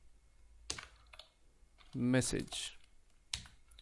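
Keys clack on a computer keyboard while code is typed, in a few sparse, close taps spread across the moment, with someone talking over them.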